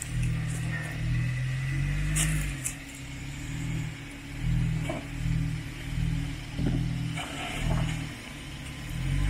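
A Jeep Wrangler engine revs near a waterfall while the vehicle climbs, a loud, low rumble that rises and falls in repeated surges for the whole stretch, with no talking.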